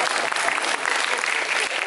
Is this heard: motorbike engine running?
no